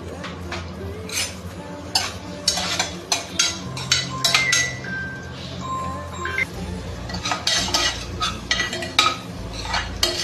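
Chopped onions fry in hot oil while a metal spoon stirs them, scraping and clinking against the pan in a busy, steady run of close, fairly loud strokes over a low sizzle.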